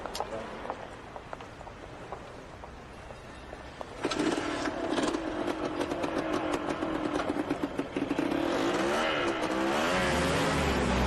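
A car driving with engine drone and rising tire squeal and skidding in the second half, loud and close, with voices talking over it.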